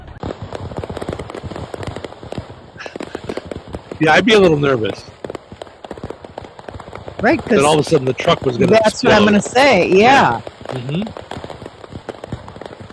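Fireworks go off all around at close range in repeated sharp pops and crackling bursts, heard under a conversation between people talking.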